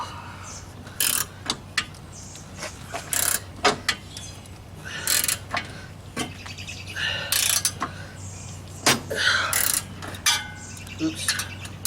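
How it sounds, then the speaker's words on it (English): A ratchet clicks in short, repeated bursts while loosening a bolt on the power steering pump of a Jeep Wrangler YJ, close and fairly loud, with birds chirping outdoors in the background. "So I'm gonna quit gabbing and take this rascal off. Changed over to a ratchet."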